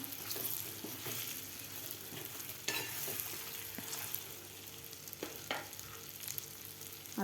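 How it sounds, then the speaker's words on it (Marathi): Stuffed ridge gourd stirred through masala in a pan, a continuous gentle sizzle with scattered scraping and knocking strokes from the spoon. "आता यामध्ये आपल्याला व्यवस्थित हलवायचं आहे"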